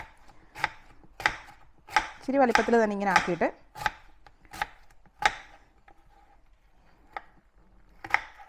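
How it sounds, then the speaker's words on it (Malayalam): A knife chops an apple sharply and repeatedly on a cutting board, crisp close knocks at an uneven pace, with a short burst of speech in between. "അതിന് നന്നായിട്ട് നമ്മൾ ആപ്പിളിനെ ചെറുതായിട്ട് അരിയുന്നു"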